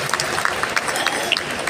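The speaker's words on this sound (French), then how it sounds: "Ah bah je vous propose de l'applaudir déjà." An audience at a French conference on AI in dubbing applauds a speaker, a dense, continuous patter of many hands clapping from a fairly close crowd.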